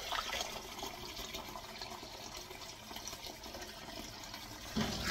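Cold water pours steadily over blanched dried chwinamul greens in a kitchen, a continuous splashing rush that swells again at the end.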